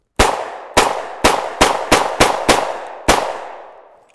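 A Ruger SR1911 Officer-style .45 ACP pistol fires 230 grain +P rounds: eight sharp, loud shots in a quick, slightly uneven string, with one short pause before the last, and no talking.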